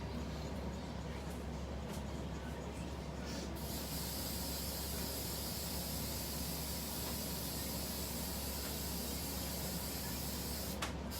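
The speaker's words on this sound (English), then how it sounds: "I spray all my cups inside." Steady, close aerosol spray hiss fills the inside of a tumbler cup, running continuously at even loudness with a brief stronger burst near the end.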